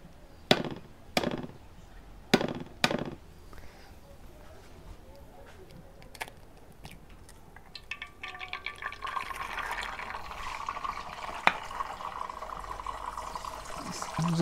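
Eggs are cracked sharply one after another at a hot frying pan for a ranch-style Mexican lunch, giving several crisp knocks, then a rising, steady sizzle as they fry.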